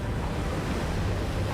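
Water surging in a large wave in Genshin Impact, a loud dense rushing roar of surf that fills the whole short moment without any talking.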